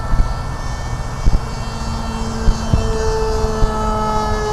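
An electric model airplane flies overhead at an Oregon flying field, its motor giving a steady whine with shifting tones and a few soft thumps along the way.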